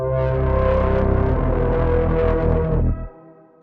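A dense, gritty music mix distorted with Soundtoys Decapitator plays loudly and steadily for about three seconds, then cuts off abruptly into a faint fading tail.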